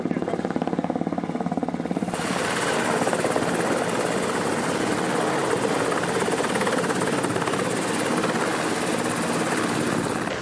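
A military helicopter operating at a littoral combat ship's flight deck gives off a loud, steady rotor beat and turbine roar. The sound grows louder after about two seconds and stays dense and close for the rest of the clip.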